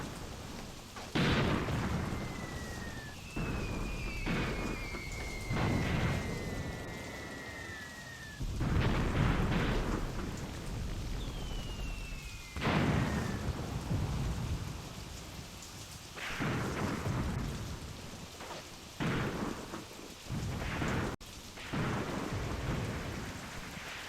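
A Soviet World War II artillery bombardment in a war video game sends heavy rumbling booms, each with a long rolling tail, recurring every few seconds at mid distance, with whistling shells sliding overhead between impacts.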